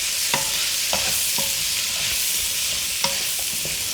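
Potatoes being added and stirred into a mutton stew in a pot, several distinct spoon-on-metal clinks and scrapes spread over a soft continuous sizzle, close and without talk.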